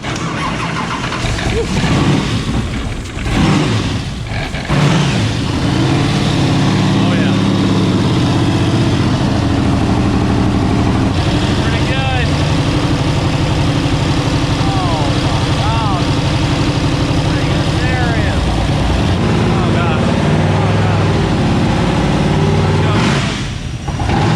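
A turbocharged car called Toast runs with the boost turned up on a chassis dyno, its engine loud and close as it roars through a sustained pull of around twenty seconds, with people talking and cheering over it.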